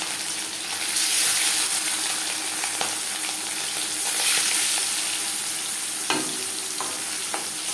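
Marinated chela fish sizzles steadily in hot refined oil, a bright crackling hiss with occasional sharp pops and spatters.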